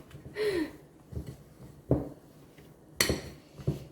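Cookie dough with chopped chocolate is mixed in a bowl: a spoon scrapes and knocks against the bowl in several separate clinks and thuds, close and fairly quiet, with pauses between strokes.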